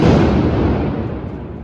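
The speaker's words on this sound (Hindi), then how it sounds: "बूम पटाखा क्या था?" A single firecracker bursts with a loud, close boom that rolls off and fades over about a second and a half, during a festival celebration at home.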